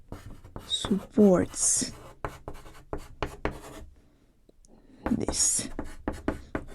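A word is handwritten with a pen: quick scratchy strokes and taps sound close by, between stretches of a person talking.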